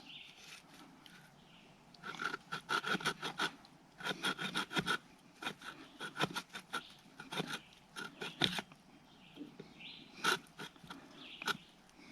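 A small QuntionST saw cutting a piece of birch wood under an inch thick: quiet, rapid rasping strokes in short bursts separated by brief pauses, fairly close, with no talk.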